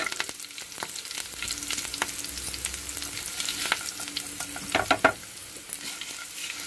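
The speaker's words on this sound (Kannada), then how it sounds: "ಇವಾಗೆಲ್ಲ ಚಟಪಟ ಸಿಡಿತಾ ಇದೆ ಈಗ ನಾನು ಕಡಲೆಬೇಳೆ ಉದ್ದಿನ ಬೇಳೆ ಹಾಕಿದಿನಿ" Chana dal and urad dal splutter in hot oil for a tempering, a moderate sizzle dotted with sharp crackling pops and a few scraping stirs, a louder cluster of pops just past the middle.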